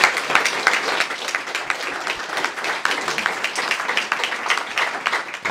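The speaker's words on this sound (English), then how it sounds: "we could have a round of applause for Joe" An audience gives a sustained, even round of applause, many hands clapping densely and continuously at a moderate level throughout.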